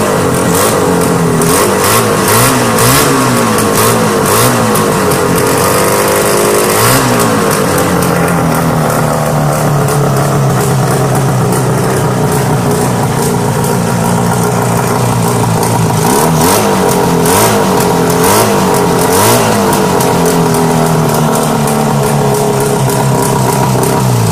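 An engine with a bad exhaust leak runs loudly and rough, with a raspy blatting tone, revving up and dropping back several times, close and continuous.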